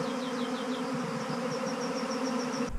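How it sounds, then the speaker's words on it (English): A swarm of bees buzzing around a backyard lime tree, a dense, steady drone with individual bees whining past up close, loud and continuous, with no talk. "There are still bees moving around"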